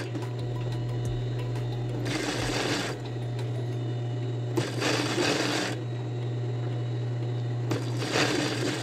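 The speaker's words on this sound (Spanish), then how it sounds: "coso por toda la orilla sin estirar ninguna de las telas" A sewing machine stitches along a fabric edge in three separate short runs, each a few seconds of rapid mechanical whirring over a steady background hum.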